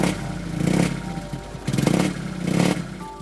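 Air-cooled 2-cylinder 600cc car engine, a vintage racer at a touring event, running and revving in swells, with a throaty, clattery mid-pitched note that rises and falls three times at moderate distance.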